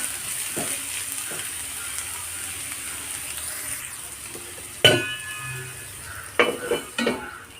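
Cabbage, carrot and vermicelli cooking in a pan for a semiya biryani, a faint continuous sizzle with a sharp close clatter of a lid or spoon near the end followed by several quick knocks and scrapes.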